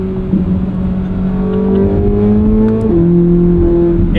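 A Chevrolet Corvette Z06 engine revs loudly and holds a strong droning tone that climbs steadily, then drops sharply as a gear changes and settles again near the listener.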